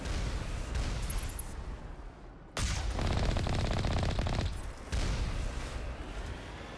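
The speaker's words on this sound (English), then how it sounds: "that thing is shooting rapid fire" A turret in Mass Effect hammers out rapid automatic fire in two long, loud, continuous bursts, with a short quieter gap between them.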